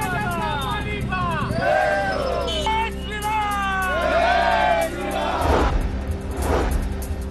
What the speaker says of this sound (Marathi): गुलालाची उधळण करत कार्यकर्त्यांचा जल्लोष